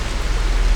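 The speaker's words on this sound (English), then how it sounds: "It's raining, so I can't go outside now" Rain falls outdoors as a steady, dense hiss with a heavy low rumble, loud and close in a very brief burst, with no voices.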